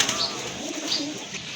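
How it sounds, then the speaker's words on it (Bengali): Soft, low coos from a pair of pigeons murmur in short repeated phrases over a steady background hiss, close by. "খুবই সুন্দর এক জোড়া গলা কষা কবুতর"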